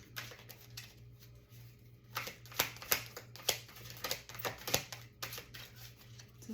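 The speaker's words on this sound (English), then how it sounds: "This is a really big deck, and it's hard to shuffle." A large deck of cards being shuffled by hand, quiet close riffles and flicks in an irregular patter of soft snaps, faint hum underneath, no talking.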